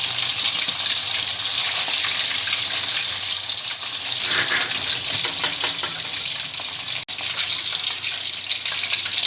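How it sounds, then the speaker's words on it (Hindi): Marinated chicken fries in a pan over a low flame, a loud, steady close-up sizzle and crackle of hot oil that carries on without pause throughout. "ये देखें चिकन दोनों साइडों से फ्राई हो गया"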